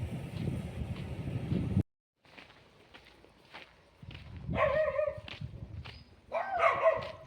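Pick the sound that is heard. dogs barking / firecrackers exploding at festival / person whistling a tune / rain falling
dogs barking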